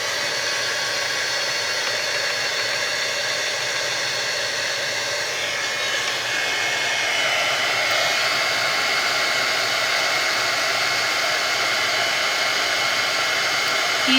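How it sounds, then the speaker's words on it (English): A handheld heat embossing gun blows hot air in a steady, loud, close whooshing roar that holds unbroken for the full stretch, rising slightly partway through, with no talking. "Grab my heat embossing gun."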